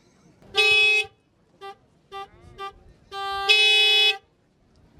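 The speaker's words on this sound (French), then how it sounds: "elle a 2 klaxons, klaxon de ville, klaxon de route" A Citroën 2CV AZ horn sounds loud and close in honks of varied length: a one-second blast, several quick toots, then a long sustained honk.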